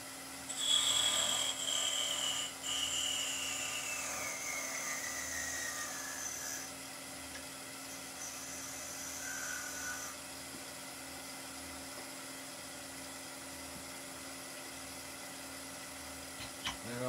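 A drill bit bores into wood held on a wood lathe. A high, thin whine slides downward in pitch over several seconds, then eases off, above a steady motor hum with no talking.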